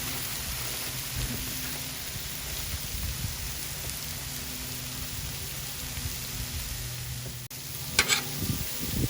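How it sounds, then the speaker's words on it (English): Cheesesteak rolls toast face down in oil on a Blackstone griddle, a steady close sizzle and crackle throughout, with a brief clatter near the end and no talk. "Throw a little bit of oil on each side. Face down to toast a little bit."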